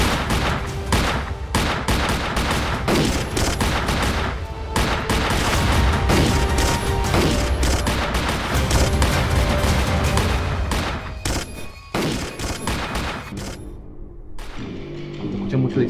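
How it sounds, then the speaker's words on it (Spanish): Dense bursts of gunfire rip through a scene in a Sinaloa narco crime film, rapid overlapping shots and volleys filling the whole stretch loudly before easing off near the end. "Escuché mucho disparo."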